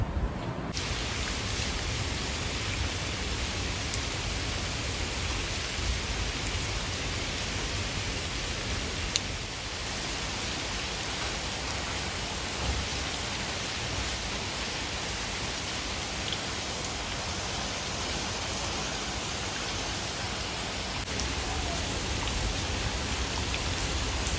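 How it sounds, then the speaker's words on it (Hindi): Heavy rain pours steadily and loudly outdoors, a dense continuous hiss of drops on surfaces with no break across the whole stretch and no voices. "मैं आपको एक बार दिखा देती हूँ कि कितनी तेज़ बारिश है।"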